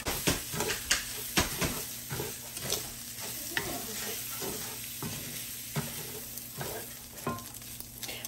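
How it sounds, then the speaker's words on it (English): Rice-A-Roni toasting in olive oil in a pan gives a steady close sizzle and hiss, broken by repeated scraping clicks of stirring at an uneven rhythm. "I'm going to toast up the Rice-A-Roni like the back of the box says"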